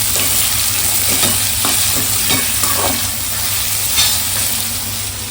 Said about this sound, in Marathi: तर आता कांदा भाजून घेऊया